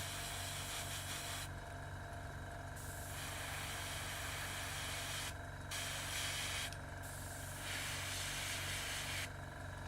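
Airbrush spraying paint onto Khorne Daemon miniatures, a soft steady hiss of compressed air broken by several short pauses as the trigger is released and pressed again, close and quiet.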